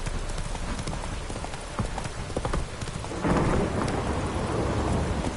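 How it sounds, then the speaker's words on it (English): Steady heavy rain pours throughout a video game scene, with low rumbles of thunder and a surge in intensity partway through; no one speaks. "This downpour's a bastard, it is."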